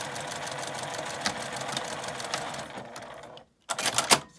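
A sewing machine stitches a key case, a fast steady mechanical whir close by that stops briefly, then starts again in a short burst.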